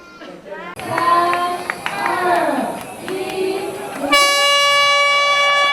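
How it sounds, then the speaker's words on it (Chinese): Air horns sound at the start of the second cross-country road race, with crowd noise and voices at first, then a loud, sustained, steady horn blast for the final couple of seconds. "在汽笛喇叭及倒数声中，第2届巴黎越野跑正式登场。"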